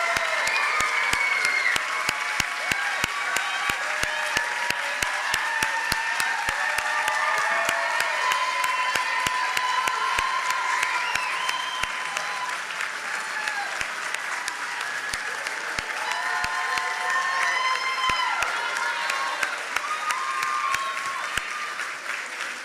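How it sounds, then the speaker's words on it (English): Sustained audience applause for December 2024 nursing graduates at a college pinning ceremony in a hall, many hands clapping steadily for over twenty seconds, dense and even with a few sharp nearby claps and scattered cheers. "So big round of applause for our graduates of December 2024."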